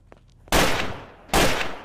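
Gunfire in the video game Garry's Mod, Trouble in Terrorist Town: two loud, sharp bursts of shots close by, the first lasting most of a second and the second starting just over a half-second later, with nothing but quiet background before them.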